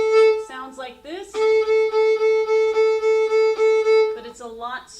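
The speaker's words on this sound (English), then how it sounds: "I like to show my students that a pulse sounds like this," A fiddle bowed with pulse strokes holds one sustained note, its steady swells giving a rhythmic pulse, with shorter bowed phrases before and after; it sounds close and moderately loud with no talk.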